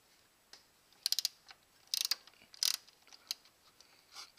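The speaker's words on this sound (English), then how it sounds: "Get my socket, go all the way around before I loosen" Socket wrench ratcheting while loosening the throttle body nuts on a 5.3L GM Vortec engine: several short bursts of quick mechanical clicks, close and fairly quiet, with pauses between them.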